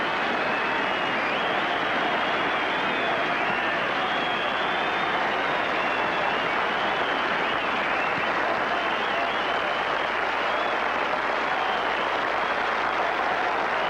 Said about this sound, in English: that applause was echoing out across the Firth of Clyde